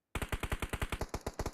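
Automatic gunfire in BGMI bursts out abruptly as a rapid, even string of about fifteen sharp shots, loud and without talk.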